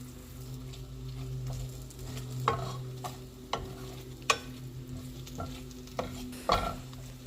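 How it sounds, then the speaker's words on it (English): Corn tortilla pieces frying in oil in a pan make a quiet, steady sizzle, broken by several sharp taps and scrapes of stirring at irregular intervals, close up with a faint hum underneath. "So I'm going to start by frying up my corn tortillas."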